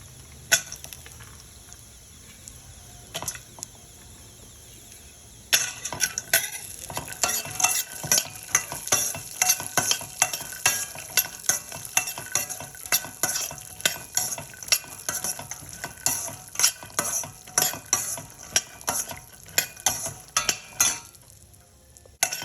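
Peanuts and pistachios roast in a pan while a spoon stirs them constantly. After a quiet start the scraping and rattling turns into a dense, rhythmic clatter with a light sizzle, close and steady.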